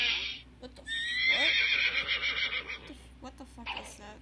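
A horse neighs loudly in the video game Whack Your Boss 2 Fantasy Edition, a long shrill whinny followed by snorting, with a voice talking over parts of it.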